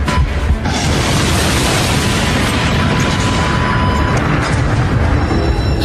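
A car bomb blast in a government quarter roars as a loud, sustained wash of broadband rumble and debris noise with no gaps, dense and overwhelming from start to finish.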